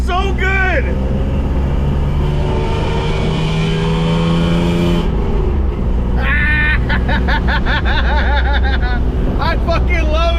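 A 1988 pickup truck on 40-inch tires, just back from the exhaust shop, drives with a loud steady engine drone and rumble throughout, while people talk and exclaim over it.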